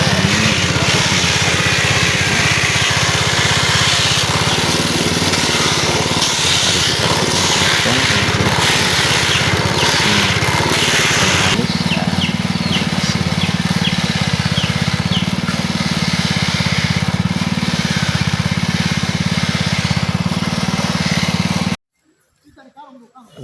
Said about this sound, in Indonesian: Selanjutnya kita parut menggunakan alat ini